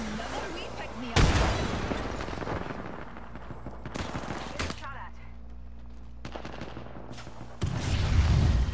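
Gunfire bursts out in the Apex Legends video game, loud rapid volleys that start and stop in several separate blasts, layered over steady in-game background noise.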